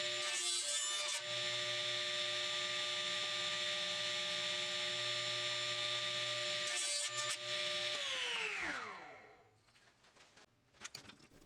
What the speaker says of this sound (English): While that dried, I cut the maple core of the mallet.